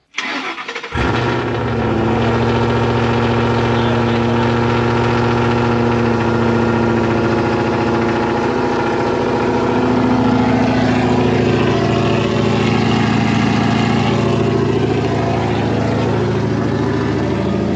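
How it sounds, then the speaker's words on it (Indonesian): A 420 hp Ford Mustang GT engine starts, then idles with a deep, steady exhaust rumble that continues loud and close without letting up. "Mesinnya tidak berisik, tapi knalpotnya."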